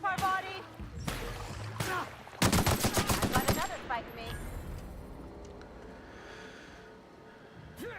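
Gunfire in The Outer Worlds: Murder on Eridanos, played on Xbox Series X, with scattered shots early, then a loud rapid burst of automatic fire in the middle, fading to faint game ambience. Someone talks over parts of it.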